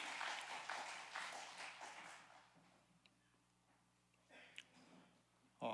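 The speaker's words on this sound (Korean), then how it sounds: "박수해 주시기 바랍니다." A church congregation at a Wednesday prayer meeting applauds after a prayer, a quiet, distant round of clapping that tapers off within about three seconds, followed by a few faint stray sounds.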